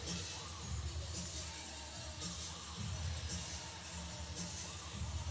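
A loud basketball arena crowd during a women's college game between South Carolina and Maryland, a constant dense roar of voices with faint shouts, heard at a distance and steady throughout.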